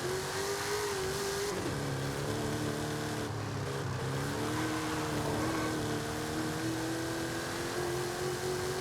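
An 874 hp Mercedes G-Class accelerates hard from a standstill on a track, its engine a loud, steady roar with a rising tone that climbs through gear changes, heard from inside the cabin with no talk.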